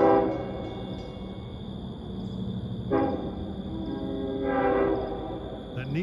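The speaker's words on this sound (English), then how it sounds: "Soon after, 660 from Penn Station, New York to Port Jeff should be going through." LIRR train 660 from Penn Station to Port Jefferson, led by engine 519 with a K5LL horn, rumbling loudly past at Cold Spring Harbor, a steady heavy roar with sustained horn tones swelling twice.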